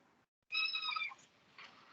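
A single cat meows once, a clear tonal call lasting under a second, close and fairly loud in a quiet room.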